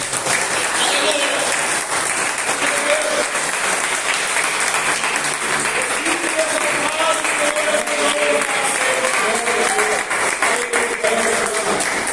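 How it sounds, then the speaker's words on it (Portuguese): A church congregation applauds steadily for about twelve seconds, dense sustained clapping filling the room while organ or keyboard tones sound underneath and a voice speaks faintly in the mix. "Vamos aplaudir a Jesus pela sua palavra,"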